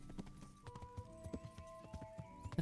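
A horse's hooves clip-clop at a steady riding pace in the video game Kingdom Come: Deliverance, a run of soft rhythmic thuds under a faint sustained musical tone.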